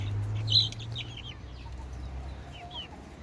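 Chickens in a coop housing a rooster, a Blue Egger hen, a Sussex and village hens, cluck and squawk with sharp calls near the start over a faint low hum, then quieter scattered bird calls.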